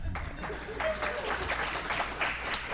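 Audience applause fills the room at a live podcast taping in Atlanta, a steady wash of many hands clapping at close range throughout, with a few voices mixed in.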